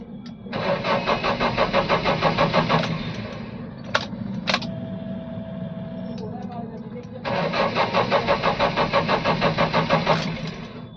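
Mahindra Bolero Maxi Truck Plus pickup being cranked by its starter motor without firing, two long rhythmic cranking bursts separated by a pause with clicks, loud and close, with someone talking over it.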